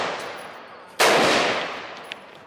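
A single loud gunshot rings out nearby at an outdoor target-shooting session, with a sharp crack followed by a long decaying echo and quiet room around it.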